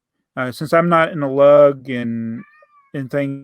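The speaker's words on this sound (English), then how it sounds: "That's my cat making noise." A house cat meows in a few drawn-out, wavering cries that overlap with someone talking nearby.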